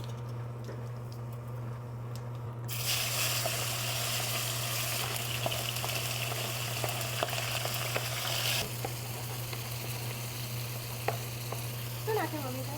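Cumin seeds tempering in hot oil in a home kitchen pan, a loud broad sizzle that flares up, holds steady for several seconds, then settles to a softer frying hiss over a steady low hum.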